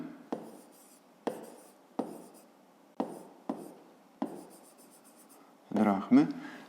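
A pen writes on paper during a fifth-grade math exercise, scratching out short strokes in a regular rhythm of about six close, distinct bursts, followed by a brief rustle at the end.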